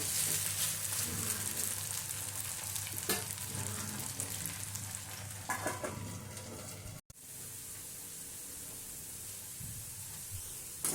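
Diced potatoes for an aloo capsicum sabzi sizzle and fry steadily in a pan, with occasional stirring scrapes over the continuous hiss, which briefly cuts out and then resumes somewhat quieter.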